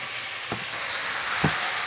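Mushrooms fry in a pan for hayashi rice, giving a steady, close sizzle with a couple of soft knocks as the pieces are turned and broken apart, with no voices.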